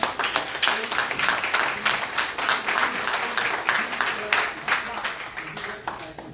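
At an outdoor rally to save a local firehouse, a crowd claps and applauds steadily for volunteer firefighters, the dense patter of many hands sustained throughout with some voices mixed in.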